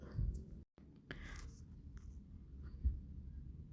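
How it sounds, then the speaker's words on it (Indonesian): A ping pong ball rubbed with a plastic bag gives soft, scratchy rustling in short, faint bursts with brief pauses, quiet and close. "Selanjutnya kita coba gosokkan dengan tas plastik."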